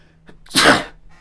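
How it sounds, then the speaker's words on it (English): A single loud, sharp sneeze bursts out close up after a brief breathy intake, then quiet. "I'm about to sneeze."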